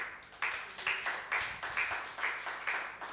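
A church congregation claps together in praise of the Lord, a steady rhythmic pattern of group handclaps repeating about twice per second, fairly close and without speech over it.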